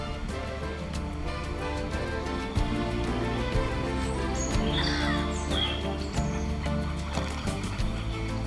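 Birds calling in the royal palace garden in Oslo, Norway, where people feed them: repeated harsh caws and squawks close by over a busy bed of outdoor background noise.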